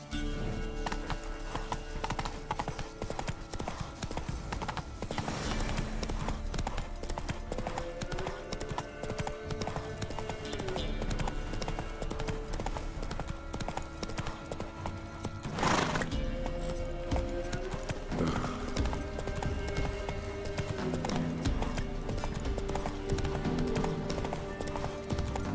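A horse gallops in the video game The Witcher 3, a fast continuous clip-clop of hooves running for the whole stretch, with occasional louder thumps over a steady game soundscape.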